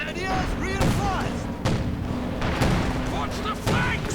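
Artillery fires in a Company of Heroes 2 match, sounding as heavy booms and blasts that repeat every second or so, with voices talking over the battle.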